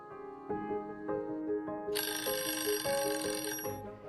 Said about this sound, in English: plays an alarm when the time is up